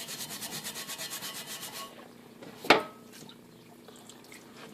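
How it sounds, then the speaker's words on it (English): Thin surface rust being scrubbed off a lathe part, a rhythmic close rubbing for about two seconds, then a single sharp knock and quiet handling. "you can see right here how easily this thin flash of rust cleans off"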